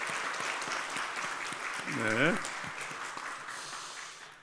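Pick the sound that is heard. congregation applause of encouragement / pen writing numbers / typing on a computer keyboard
congregation applause of encouragement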